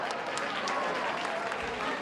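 An audience claps and cheers in a continuous, crowded burst of applause, close and loud throughout.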